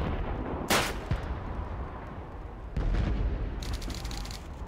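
Rifle shots fired at a teddy bear target in the video game Call of Duty 2, two sharp loud cracks a couple of seconds apart, each followed by a short echoing tail over steady background ambience.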